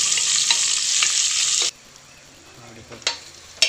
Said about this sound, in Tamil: இப்போ இந்த அளவுக்கு வெங்காயம் வதங்கியிருக்கு